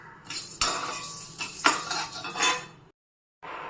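Barley, sago and about ten cardamom pods dry-roast in a pan, stirred in short bursts of rattling scrapes and metallic clinks, then a brief silence before the stirring resumes.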